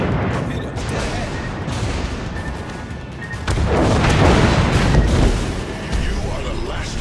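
An enemy destroyer blows up in World of Warships during Tier X destroyer gameplay, a heavy booming blast swelling midway over ongoing artillery rumble and game noise, with a voice talking at times.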